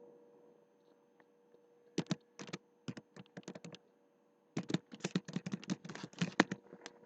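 A password is typed on a computer keyboard in two bursts of quick, close key clicks separated by a short pause, with no voices.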